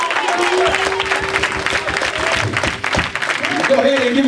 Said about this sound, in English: Go ahead and clap your hands, it's going to be all right.